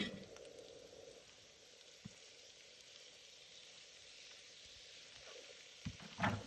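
Carrots with green, red and yellow peppers sauté in a pan for Jamaican curry chickpeas, making a faint, even sizzle with a couple of soft knocks near the end.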